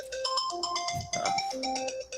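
A phone ringtone plays a bright, repeating melodic tone pattern, loud and close, continuing for the full two seconds with no voices over it.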